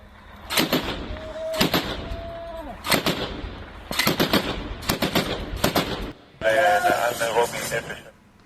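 Bursts of gunfire from seized Hezbollah weapons fired by the Israeli army, several loud separate volleys of rapid shots with brief gaps, the last burst longer and denser, recorded in the field.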